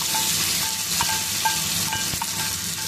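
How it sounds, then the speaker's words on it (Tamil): Curry leaves tempered in hot oil sizzle loudly as they are poured into thuthuvalai chutney, a steady hiss broken by faint clinks of a pan or spoon. "கருவேப்பிலை போட்டு கொஞ்சம் நம்ம சட்னியில் ஊற்றிடலாம்"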